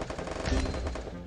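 Rapid bursts of Free Fire gunfire crackle densely throughout, loud and continuous, with a heavier blast near the middle.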